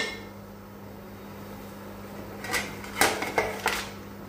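A metal lid settles onto a pot of fish in simmering armoricaine sauce: a cluster of clanks and rattling clinks near the end, after a quiet stretch of low kitchen hum.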